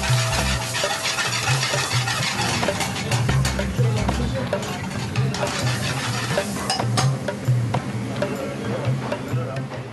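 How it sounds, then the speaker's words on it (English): Chopped chicken sizzles and fries in a pan while it is stirred and scraped, producing a steady close-up crackle broken by repeated utensil knocks and clatters against the metal. "He adds the chopped chicken to the frying pan."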